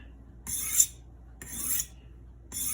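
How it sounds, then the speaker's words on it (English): A kitchen knife is drawn across a sharpening stone or steel in three slow, separate rasping strokes, close up and fairly quiet, with short silences between them. "Considering I just sharpened and just honed this knife prior"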